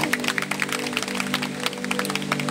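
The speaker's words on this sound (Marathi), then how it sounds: "त्यांच्यासाठी जोरदार एक टाळ्या आपण." Audience applause at a Dr Babasaheb Ambedkar 133rd birth anniversary celebration, a steady patter of many hands clapping throughout, moderately loud, over a faint sustained musical hum.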